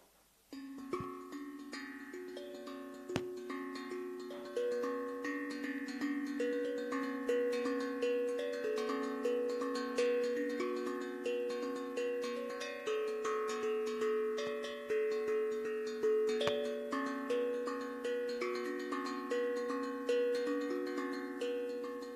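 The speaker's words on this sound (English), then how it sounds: "this is called UFO drum." A UFO drum, a hollow metal vessel-shaped percussion instrument, rings out with sustained, overlapping resonant tones at an even, moderate level throughout, struck notes layering into a shimmering, melodic wash with no talking.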